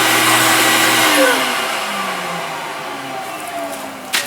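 A Pursell Snow-Force flock machine blows air in a steady, loud broadband rush with a slight engine-like whine that gradually drops in pitch and eases off, near and continuous with no talking.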